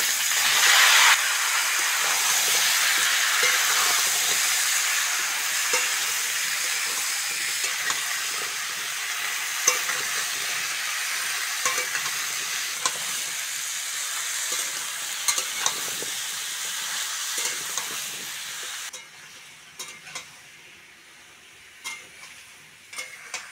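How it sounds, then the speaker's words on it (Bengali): Ash gourd and potato pieces stir-fry in hot oil with bay leaves and whole cumin in a village kitchen, making a loud, continuous hiss that fades in the last few seconds, with scattered scraping and tapping of a spatula. "আলু আর চাল কুমড়োটা একটু নেড়ে চেড়ে নিয়েছি"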